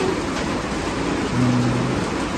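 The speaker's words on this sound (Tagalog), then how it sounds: "Grabe, lakas ng ulan dito, no?" Heavy rain pours down in a steady, loud, unbroken hiss, drumming on the surrounding surfaces with no pauses.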